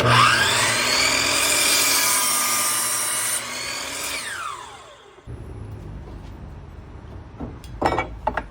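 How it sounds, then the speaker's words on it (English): A saw makes a 45-degree cut across the end of a wooden stud, a loud whining rush that winds down after a few seconds, followed by lighter knocks and clatter of wood and tools. "we'll go ahead and cut a nice 45 on the end of my stud"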